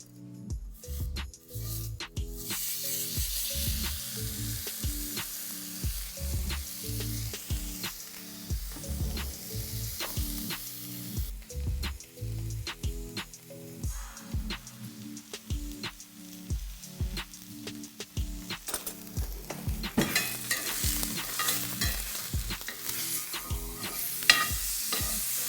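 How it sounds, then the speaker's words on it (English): Peppered steak coated in coarse cracked black pepper searing in a really hot pan, a continuous loud sizzle and spatter crackling throughout with occasional bumps and shifts of the meat. "And then into a really hot pan."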